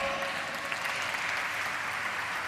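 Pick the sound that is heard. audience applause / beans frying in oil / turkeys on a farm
audience applause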